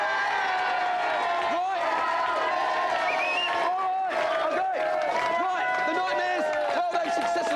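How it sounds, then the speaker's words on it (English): A studio audience at the GamesMaster video game show applauds and cheers the contestants, a loud, steady wash of clapping and crowd noise that runs throughout with a voice speaking over it. "Let's have a big round of applause for the chat"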